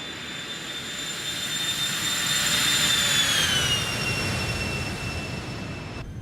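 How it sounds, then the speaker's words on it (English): A jet airliner in the X-Plane 12 flight simulator makes a low flyby, its engine roar and whine swelling to a peak and then easing as the turbine tones drop in pitch, loud and continuous. "Guys, I got to do a flyby."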